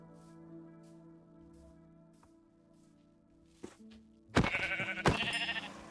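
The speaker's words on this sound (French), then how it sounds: "Il y a des moutons, il y a un mouton" Sheep bleating in the video game Minecraft survival world, several loud, close bleats near the end after a few quieter footstep-like sounds over a faint background hum.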